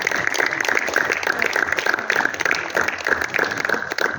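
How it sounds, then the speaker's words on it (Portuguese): A church congregation claps to welcome an arriving family, continuous scattered clapping at moderate loudness with a few faint background voices. "Palmas para a família que está chegando"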